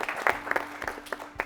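A quiz audience gives a short burst of scattered clapping, a few distinct hand claps at moderate distance over roughly a second and a half.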